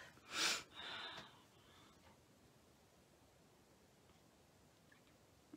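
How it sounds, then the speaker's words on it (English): A person blows their nose once with a short, loud honking burst, followed by a softer snuffle and then quiet room noise. "Pardon me while I blow my nose."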